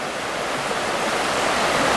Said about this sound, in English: And that water is ripping.